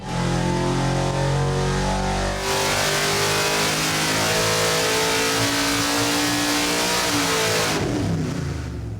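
A high-performance engine on a dynamometer, fitted with a 14-inch air cleaner element under a chrome top, revs hard and loud for several seconds, its roar swelling at full throttle before the pitch drops as it backs off.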